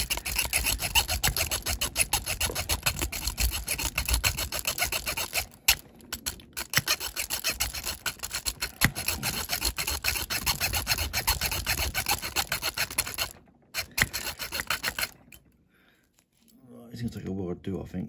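A hacksaw cuts through a metal Matchbox Jaguar XJ12 model car in quick, steady rasping strokes, close and fairly loud, pausing briefly a few times while someone speaks over it.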